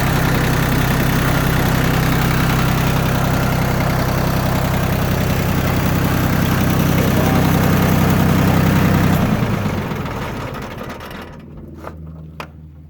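A Yanmar F16D compact tractor's diesel engine idles with a steady, loud mechanical chatter for about nine seconds, then winds down and stops, leaving faint ticks and near silence.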